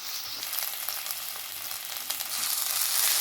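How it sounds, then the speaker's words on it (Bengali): Ginger garlic paste frying with onions in a pan for a dhaba-style okra curry gives a steady, close hiss and crackle of sizzling oil that swells louder toward the end. "আদা রসুনটা দিয়ে ভালো করে একটু ভেজে নেব"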